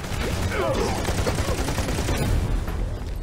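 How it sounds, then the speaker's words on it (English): Dense, rapid bursts of gunfire crackle continuously at close range, loud and unbroken, like sustained automatic fire in the video game Army of Two: The Devil's Cartel. "I hear gunfire off in your direction, though."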